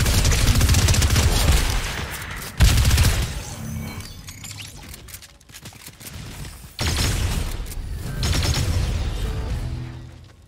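Gunfire crackles in a Fortnite match, dense bursts of rapid shots with sharp onsets near the start, middle and end, separated by quieter gaps of game sound, with no talk.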